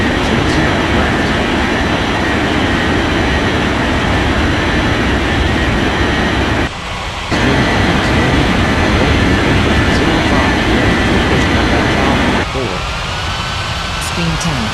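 A jet airliner takes off from runway 30 left in an air traffic control video game, a loud, steady engine roar that drops out briefly midway, then resumes.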